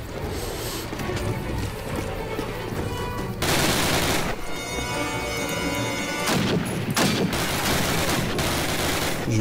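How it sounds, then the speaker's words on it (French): Heavy gunfire in a Call of Duty game, dense and loud throughout with rolling booms, mechanical clatter and rapid bursts layered over continuous battle noise. "Je tire doucement si jamais."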